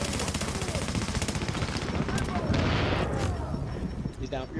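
Rapid video game gunfire rattles in dense automatic bursts, loud and close, with sharper shots piling up near the end.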